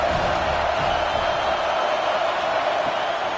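Football stadium crowd at a CFL game, Saskatchewan Roughriders at Winnipeg Blue Bombers, producing a steady, loud, broad roar of massed voices that sustains without a break.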